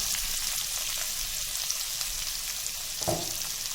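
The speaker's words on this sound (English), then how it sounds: "Now add the onions to it." Onions sizzle in hot oil in a pan for a vegetable sandwich, a steady close crackling hiss with small pops and a brief stir near the end, no voices.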